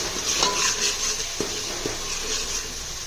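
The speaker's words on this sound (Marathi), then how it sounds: "आता आपण त्यामध्ये हळद टाकू हळद पण परतून घेऊ" Turmeric sautéed in a pan for Maharashtrian patavadi rassa, heard as a steady close sizzle with scraping stir strokes and a couple of light utensil knocks against the pan, no voices.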